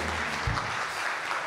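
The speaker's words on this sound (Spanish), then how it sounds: "Dale esa ofrenda de aplauso al que vive." Church congregation applauding during a Spanish-language sermon, a brief burst of clapping that sounds diffuse and somewhat distant in the room.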